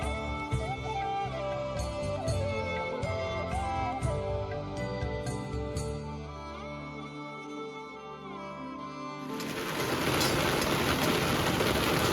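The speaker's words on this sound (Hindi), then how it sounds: "बारिश भी धीमी धीमी स्टार्ट हो चुकी थी।" Light rain beginning to fall at a village during monsoon weather, a soft steady hiss that swells near the end over a continuous background of music and ambient noise.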